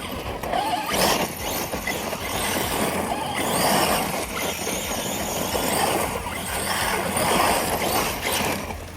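A Losi DBXL E 2.0 electric RC car tears around with a continuous whirring motor whine that surges and fades as it passes, joined by gritty crunching of its tires over the ground.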